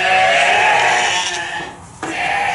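Baby lambs bleat in a petting pen, a dense, loud run of overlapping calls that dips briefly near the end before picking up again.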